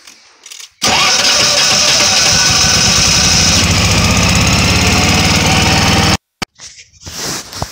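A Generac 10k/11k standby generator engine starts up and runs loud and steady close by for about five seconds, then cuts off abruptly, leaving faint background sounds.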